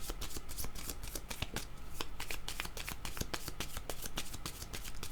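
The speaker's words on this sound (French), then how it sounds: "Je vais demander une autre carte." Playing cards shuffled continuously by hand, a dense run of rapid papery riffles and snaps, close and steady throughout with no voices.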